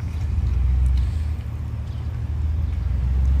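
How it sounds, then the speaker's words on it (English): Car traffic rumbles outside a school parking lot, with a steady low engine drone from idling and slow-moving vehicles, close and continuous throughout. "Look at the traffic right there"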